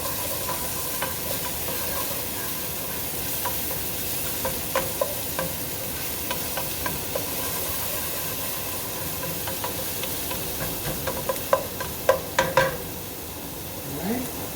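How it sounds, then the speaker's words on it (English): Minced garlic sautéing with onions in olive oil over moderate heat, a steady low sizzle with scattered spoon scrapes and stirring clicks that grow busier toward the end. "I'm going to throw in the minced garlic. Give that a good stir."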